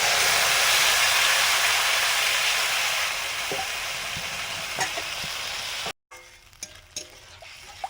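Mixed sauces poured into a hot chowmein pan set off a loud, hissing sizzle that gradually settles, then cuts off and gives way to quieter clatter and a few knocks.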